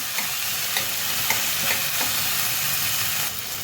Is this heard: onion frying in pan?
yes